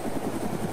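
Steady, rhythmic rotor thump of a helicopter in the ArmA2 video game, loud and continuous through the short moment with no voices over it.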